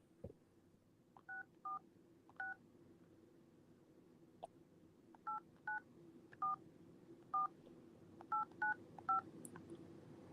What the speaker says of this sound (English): Let's get Cheryl on the phone.